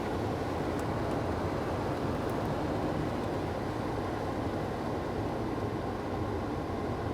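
Air conditioning blower in a 1995 Ford F-150 Flareside pickup roars as a steady, broad rushing drone, loud and unbroken from inside the cab.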